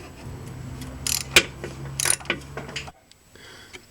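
A ratchet with an extension clicks in short bursts while turning an oil filter wrench under a 2005 Hyundai Tucson, several sharp close metallic ratcheting clicks and clanks over a faint background hum.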